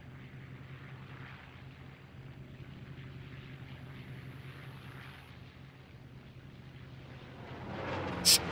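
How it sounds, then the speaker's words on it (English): A German propeller plane drones overhead in the Arma 3 video game, a faint, steady engine hum that swells toward the end. "that's a German plane"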